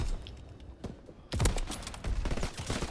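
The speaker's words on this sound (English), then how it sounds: "Oh, that guy's coming with the burst gun." Burst rifle gunfire in a Call of Duty-style video game: quick clusters of sharp shots, several bursts in under three seconds, loud and near within the game mix.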